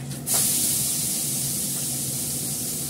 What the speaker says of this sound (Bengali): তেলটা দিয়ে দিলাম, এর মধ্যে দেবো পেঁয়াজ, পেঁয়াজ আর কাঁচা লঙ্কা বাটা